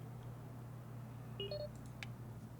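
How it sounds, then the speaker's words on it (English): Short electronic beeps in the airport management game AirportCEO: a few quick two-tone blips and a brief click over a quiet, steady background hum. "But don't you beep at me."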